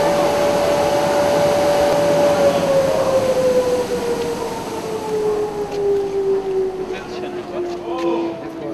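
A newly built village flour mill in Kashatagh runs with a loud, steady mechanical roar. A whining tone slowly drops in pitch, and faint voices come in toward the end.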